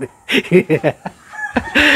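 Gamefowl roosters, a bullstag and a cock, cluck in a quick run of close, loud bursts, then a louder crow breaks out at the end.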